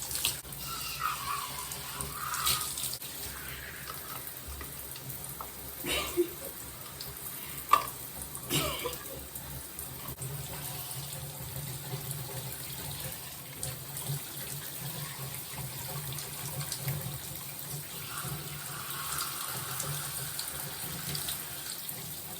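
Water from a tap runs steadily while hair is rinsed with the head bent down, a continuous close splashing stream with a few brief knocks and no talking.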